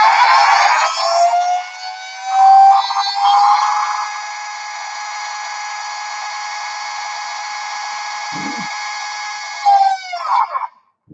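A brushless RC motor on a SkyRC analyzer spins up with a loud, rising whine, holds a steady high-pitched tone at about 50,000 RPM, then winds down abruptly, with a brief low knock in between.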